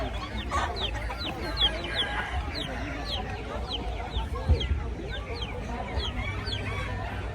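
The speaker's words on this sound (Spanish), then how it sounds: "Ya se fue el pollito rapidísimo." Chickens cluck amid the busy bustle of a market day in Tlaxiaco, in Oaxaca's Mixteca region, with steady crowd chatter and voices all around.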